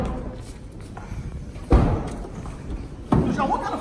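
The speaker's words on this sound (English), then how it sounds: "Can you close that left rear door for me?" A car door on a Toyota, the left rear one, thumps shut twice, each a solid low thud standing out against a steady background of voices and room noise.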